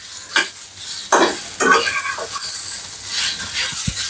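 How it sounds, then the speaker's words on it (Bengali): Pumpkin pieces for a sweet murabba fry in a pan and sizzle steadily while a utensil stirs and scrapes against the pan in repeated strokes, close and fairly loud, with no talking. "এটা মোটামুটি আমার ভাজা হয়ে গেছে"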